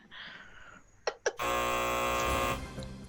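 An electronic game show buzzer sounds during a streamed Magic: The Gathering Arena quiz, a loud sustained harsh tone of about a second after two short blips, with no talk over it.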